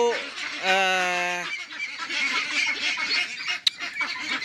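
Meat ducks on a duck farm give a loud, drawn-out nasal honk near the start, followed by a dense, noisy chorus of flock calls close by.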